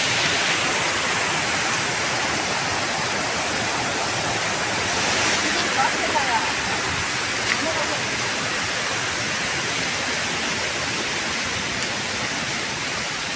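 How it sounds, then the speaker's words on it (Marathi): Saat Ranjan waterfall in Hardakhale village in the Sahyadri hills, a constant loud rushing roar of falling water that stays dense and unbroken throughout. "आता आपण हर्दकळे गावातील 7 रांजण धबधब्याजवळ आता आपण आलो आहोत"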